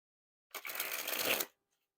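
A deck of Zebra King Slayers playing cards by Ellusionist is sprung from hand to hand in one smooth, continuous fluttering burst lasting about a second, close and fairly quiet.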